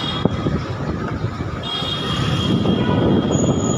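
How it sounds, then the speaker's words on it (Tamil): A Mumbai monorail train at an elevated station, a broad continuous rumble of wheels and carriage with high metallic squeal tones, close and steadily building in loudness. "இது அண்டாஃபில் மோனோ ரயில் போச்சுல்ல"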